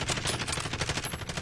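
Rapid burst of gunfire in Call of Duty, a dense, continuous rattle of shots over about a second and a half, loud and close with no talking.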